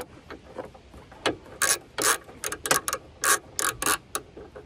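Socket wrench fitted with an adapter tightening a ground connection during an LED pod light install on a Chevy Trail Boss, giving irregular bursts of close ratcheting clicks with short pauses between strokes.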